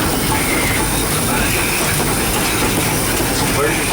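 Tweetsie Railroad train rumbling along, heard from inside the locomotive cab: a steady, loud, broadband roar with faint clatter throughout, no clear breaks.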